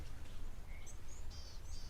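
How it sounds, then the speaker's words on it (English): Birds at the waterhole near Tower Lodge give several short, thin chirps and whistles, scattered and fairly distant, over a steady low outdoor background hum with no talking. "always quite a lot of birds that we get here around Tower Lodge"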